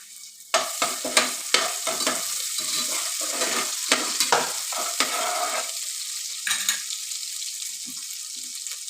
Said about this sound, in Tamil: இஞ்சி பூண்டு பச்சை வாசனை போகிற வரைக்கும் நல்லா வதங்கட்டும்